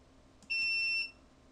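A single electronic beep from an Arduino-controlled buzzer, a steady high-pitched tone lasting about half a second, clear against a quiet background.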